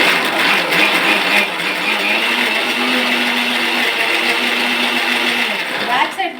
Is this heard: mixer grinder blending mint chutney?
yes